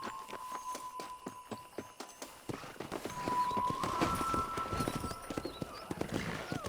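Hooves clip-clop rhythmically as horses gallop in the video game Red Dead Redemption, the pace quickening and growing louder midway, with a jingle of tack, a brief whinny and faint voices behind.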